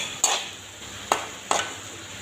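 Greens and lentils being stirred in a cooking pan, three distinct scraping strokes spaced apart over a low steady sizzle, close and fairly quiet.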